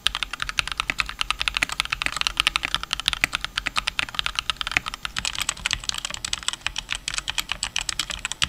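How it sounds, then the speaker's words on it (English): A modded RK61 mechanical keyboard with KTT Kang White V3 switches is typed on quickly and steadily, with a dense run of crisp, close clacks and no talking. "First, I'm going to use my modded RK61 with KTT Kang White V3s"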